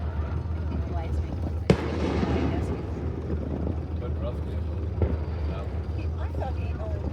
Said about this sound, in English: Ooh, there's big fireworks there.